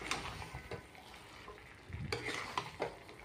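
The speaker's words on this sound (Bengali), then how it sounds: "ওটা দিয়ে সুন্দর করে আরও 5 মিনিট কষিয়ে নেব।" Chicken pieces being fried and stirred with coriander for chicken kosha give a faint, low sizzle with scattered light scrapes and clinks of a spoon against the pan, a few louder stirring knocks near the end.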